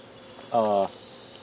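Honey bees buzz during a hive inspection, one short, loud, close drone of a single bee flying past lasting about a third of a second, over quiet background hum.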